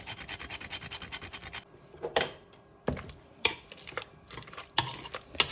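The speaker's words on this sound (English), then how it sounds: "get some fresh nutmeg and grate nutmeg on your mash" Fresh nutmeg grated onto mashed potatoes, a run of dry rasping strokes up close, first in a quick continuous burst, then in separate short scrapes with pauses between them.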